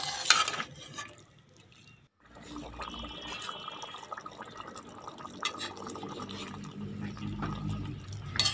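Water is poured into a pan of beetroot and cauliflower sabzi, giving a soft liquid trickle and splash that follows a brief pause and continues at a low, steady level.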